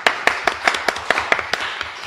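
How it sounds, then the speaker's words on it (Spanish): A small group claps in a quick, even rhythm of about ten sharp claps in two seconds, close and distinct on a talk show after a correct answer. "¡Un aplauso!"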